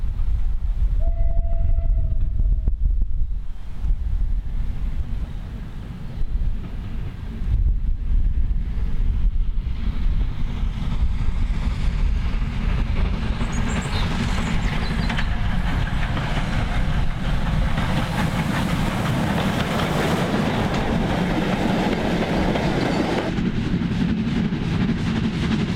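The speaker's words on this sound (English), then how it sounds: "A quick view of the train passing over" A train rumbles steadily past overhead on a bridge at Little Burrs cutting, a loud, continuous roar of wheels and wagons with gusts of wind buffeting the microphone, building into a harsher rattling clatter toward the end.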